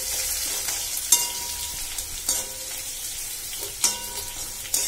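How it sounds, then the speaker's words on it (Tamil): Onions sauté in a little oil for Chettinad mutton chukka. A soft, continuous sizzle is punctuated every second or so by sharp spatula scrapes and clicks against the pan, heard up close with no voices. "இப்போ இந்த ஆயில் பார்த்தீங்கன்னா இந்த வெங்காயம் வதக்கிறதுக்காக தான், இதுக்கு ரொம்ப ஆயில் தேவைப்படாது."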